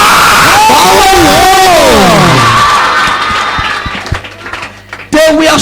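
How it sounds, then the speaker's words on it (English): A church congregation claps and shouts during a revival service. A loud, wavering voice calls out first, then scattered claps and crowd noise follow, close and loud. "If you believe it, clap your hands and shout and say power."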